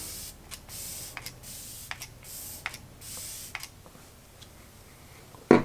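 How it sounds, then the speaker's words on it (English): Several short pump sprays of makeup setting spray hiss in quick succession, close and fairly soft, separated by brief pauses, ending in a louder knock. "Now going to do some setting spray."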